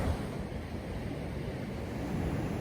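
Surf breaking at a seaside fishing spot, a steady broadband wash of waves with wind rumble, continuous and fairly close, with no voices.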